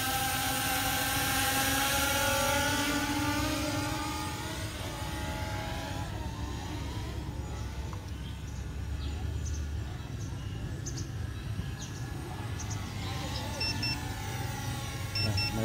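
A C-Fly Faith 2 Plus drone whirs steadily outdoors as it takes off and flies, a continuous buzzing drone mixed with wind noise throughout.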